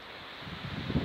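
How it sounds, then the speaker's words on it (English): Gusty wind buffets the microphone with a low, rumbling roar that grows louder and rougher toward the end. "It's very windy."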